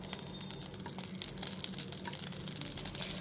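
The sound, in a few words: black cumin and slit green chillies frying in oil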